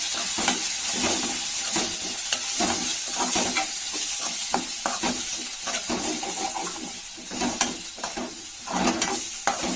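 A handful of fresh mint is stirred into sizzling mutton chukka, with a steady loud frying hiss throughout and repeated scraping, clattering stirs of a spatula against the pan.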